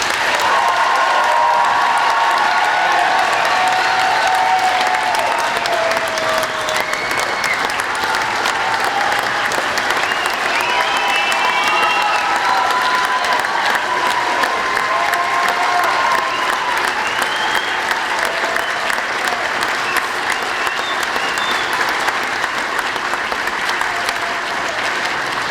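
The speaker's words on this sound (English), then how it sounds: "Let's give them a round of applause." Audience applause at the Saint Paul Police Department academy class of 2017 graduation ceremony, sustained loud clapping from a large crowd with scattered cheers and whistles, continuing steadily for the whole stretch.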